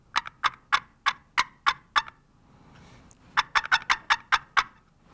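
Turkey box call played by tapping the paddle, a series of sharp, evenly spaced yelps in two bursts with a short pause between, close and clear with no talking.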